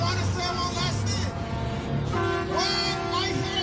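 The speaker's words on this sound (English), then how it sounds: "When I hear the sound of honking, those honking, that is a sound of revival." Truck horns honking at a trucker convoy in Ottawa, long sustained blasts overlapping in a steady chorus with a crowd, fairly loud and continuous, while a voice talks over them.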